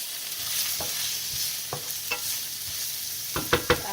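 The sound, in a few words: sauteing lasagna vegetables in a pan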